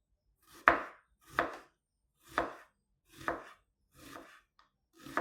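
Knife slicing ingredients for a peanut tempeh dish with Bengali five spice, six distinct, evenly spaced chops on a board, close and crisp with near silence between strokes.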